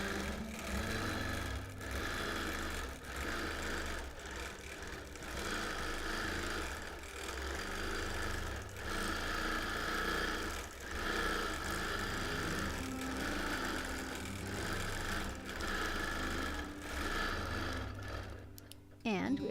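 A sewing machine free motion quilting a friendship birthday quilt, running as a steady continuous mechanical whir with rhythmic needle pulses for most of the stretch, close and alone, stopping just before the end.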